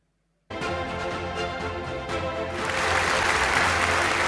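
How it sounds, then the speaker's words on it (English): An awards ceremony audience bursts into applause for the winners after a moment of silence, the clapping starting abruptly and then swelling louder and denser for the final couple of seconds. "Join me in applauding the teams"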